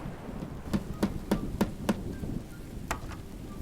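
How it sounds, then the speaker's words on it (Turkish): Thunder cracks and heavy rain in the video game Crowalt: Traces of the Lost Colony: five sharp, evenly spaced claps in quick succession, then a later single crack, all over a steady low rumble of rain. "Ah şimşeklerin gürültüsü bile insanı yormaya yetiyor."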